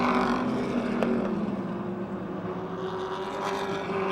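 Modified race cars roar around a speedway during a heat race, a continuous droning engine growl at a steady distance with shifting pitch, no voices over it.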